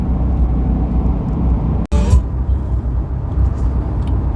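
A vehicle cruises along a road through Oregon's Blue Mountains, a loud, steady low rumble of engine and tires, broken by one sharp click and brief dropout midway.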